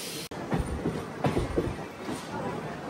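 A DMU passenger train slowing on the Kurnool to Guntakal line, heard from inside the coach as a steady rumble with rhythmic clickety-clack of wheels over rail joints.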